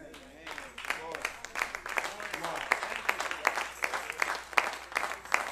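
Scattered claps from a church congregation during a sermon, a handful of sharp individual hand claps rising in a loose rhythm while a voice talks underneath.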